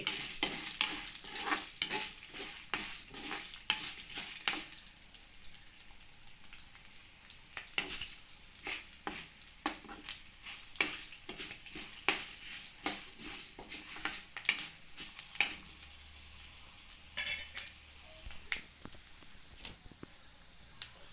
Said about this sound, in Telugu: ఈ తాలింపు కూడా బాగా వేగనివ్వాలండి.